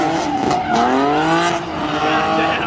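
A rough, strained engine of a damaged, totaled Ford Mustang roars up close, its pitch rising and falling unevenly with a harsh, rattling edge.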